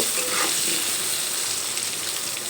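Papaya pieces frying in oil left over from frying fish, a steady dense hiss of sizzling oil with faint stirring, close and continuous without speech.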